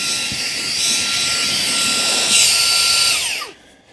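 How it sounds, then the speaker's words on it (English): A Fanttik Slim V10 Mix cordless handheld vacuum runs as a blower on its high setting, a loud steady high-pitched whine with rushing air that holds for about three seconds, then winds down and cuts off. "Let's go to high. Really powerful blower."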